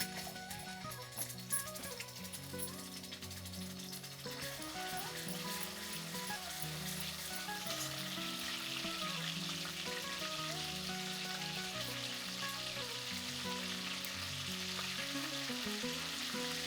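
Garlic-ginger paste hits hot oil in a kadai and sizzles steadily, the frying hiss building after a few seconds and holding constant. Soft background music plays underneath throughout.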